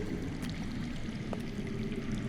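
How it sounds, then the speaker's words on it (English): Steady low rushing of water flowing underground in a Game of Thrones video game, a continuous faint murmur with no talk over it. "I hear water. From underground."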